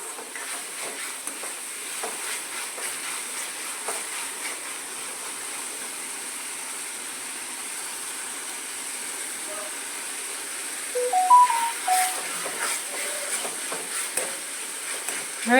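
Sliced tomatoes frying in oil in a pan, a steady hissing sizzle with stirring scrapes and a few clinks toward the end.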